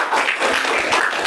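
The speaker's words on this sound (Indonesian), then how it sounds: "Oke, tepuk tangan buat kelompok 1" A classroom of students gives a short burst of brisk clapping for a presenting group, close and lively throughout the brief moment.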